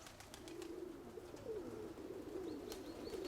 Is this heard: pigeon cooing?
yes